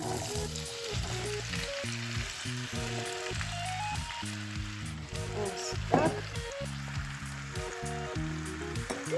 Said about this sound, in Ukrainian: І в добре розігріту олію та сковорідку висипаю свою картоплю